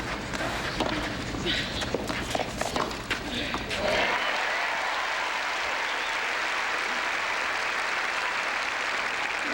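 A tennis crowd applauds for Gabriela Sabatini in a Family Circle Cup semi-final against Steffi Graf, with steady sustained clapping from a large audience and a few louder individual claps, continuing evenly to the end.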